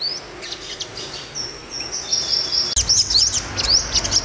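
A caged yellow-bellied sunbird chirps repeatedly in thin, high sharp notes over steady background hiss and low rumble, with no talk.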